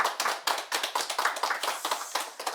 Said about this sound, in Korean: 신부님께 큰 박수 부탁드립니다